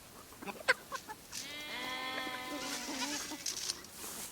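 Goats bleat nearby, a few short calls followed by a long wavering bleat, with other animal sounds faintly around.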